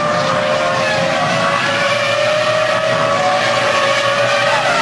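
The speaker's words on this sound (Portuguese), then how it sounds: "Falando alto o motor Renault." A Renault Formula One engine roars continuously at high pitch during the 2003 European Grand Prix, a steady high-revving whine holding near and strong throughout.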